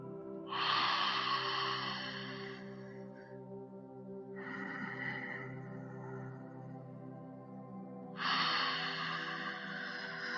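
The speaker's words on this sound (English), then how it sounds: "Take 2 deep breaths there." Three slow, deep breaths, audible inhales and exhales, taken during a ballet stretching and conditioning routine, close and clear over a low steady hum.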